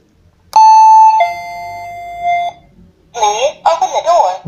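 A wireless doorbell plays a long sustained chime tone, loud and close, followed by a short burst of electronic voice-like melody from the same unit.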